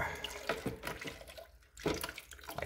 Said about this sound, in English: pour warm water, not hot water, over the ice cubes and salt